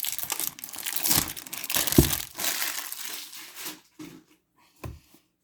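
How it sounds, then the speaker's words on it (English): Cellophane wrapper is torn and crinkled off a Dunhill perfume box close to the microphone, a dense run of crackling and crunching that trails into a few sparse rustles. "So there it is, cellophane off the box, standard box."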